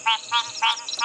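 Frogs croaking after sunset on a live safari drive: three loud, evenly spaced rasping calls close by, with a fourth starting at the very end.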